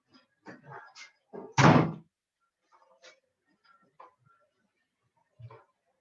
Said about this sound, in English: Hang on, I'm just going to close the door.